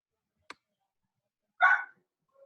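A small dog gives a single short bark in a quiet classroom during a physics lesson, preceded by a faint click and followed by a brief soft tone.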